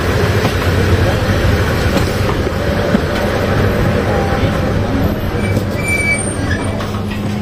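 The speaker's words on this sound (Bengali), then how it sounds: "তো ট্রেন এখন মেথিকান্দা রেলওয়ে স্টেশনে থামলো।" Kishorganj Express train braking as it pulls into Methikanda railway station, a loud steady rumble of wheels and carriages with a faint high brake squeal late on.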